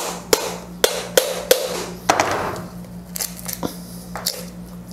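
A dry coconut's shell is struck repeatedly with a hammer to loosen the husk, giving sharp, close knocks in an uneven rhythm with some crackling and rustling between blows over a low background hum.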